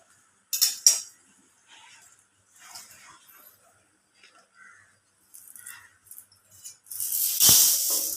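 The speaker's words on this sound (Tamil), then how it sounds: "உளுத்தம்பருப்பு கொஞ்சம் வறுத்துக்கலாம். பொன்னிறமாக வறுத்துக்கலாம்." Urad dal roasting in a dry kadai for idli podi, with scattered scrapes and clinks of a spoon against the pan, then a louder sizzling hiss near the end.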